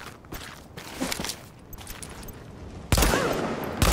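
Gunfire in The Division, scattered shots early on and then a loud, dense burst of rapid fire near the end, heard close against the in-game background.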